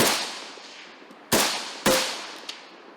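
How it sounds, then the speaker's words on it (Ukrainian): Two sharp, loud rifle shots ring out about half a second apart at a shooting range, each with a long decaying echo, followed by a faint distant pop. "Сьогодні вчилися стріляти зі стрілецької зброї до малої цілі 100 метрів, до ростової 150 метрів"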